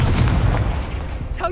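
Confringo fire spell explosion in Hogwarts Legacy, a loud booming blast that rumbles and fades over about a second, ending in a brief tonal flourish.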